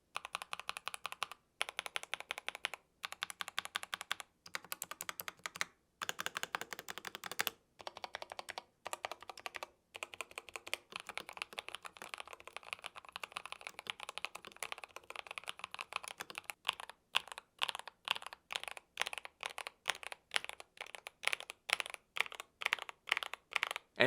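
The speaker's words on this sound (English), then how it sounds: "I think this thing sounds unbelievably good for the price point, possibly the best sounding keyboard in this price point" Typing on a Tecware Phantom Plus mechanical keyboard, a steady stream of quiet, close clicky keystrokes, bursts of rapid typing broken by short pauses, with faster evenly spaced presses toward the end; no voices.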